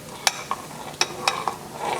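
A spoon stirs a cornstarch and jello mixture in a pot, making light, irregular clinks and scrapes roughly every quarter second over a soft background hiss.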